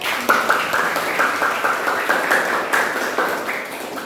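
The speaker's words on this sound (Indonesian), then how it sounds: "Oke, kita tepuk tangan dulu buat semuanya." A vocational high school class applauds together, a dense, fairly loud patter of many hands clapping steadily for several seconds in an indoor room.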